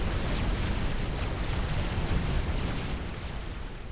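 Dense, continuous rumbling barrage of bomb blasts from bombers in the real-time strategy game Supreme Commander: Forged Alliance, loud and sustained with overlapping booms and no pauses.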